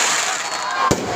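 New Year fireworks crackle and hiss in a continuous wash, then a single sharp bang pops out near the end, fairly loud and close.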